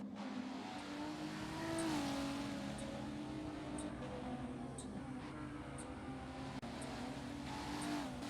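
Video game race cars lap Brands Hatch with a constant engine whine that climbs and dips through shifts, one brief sharp tick partway through, no voices.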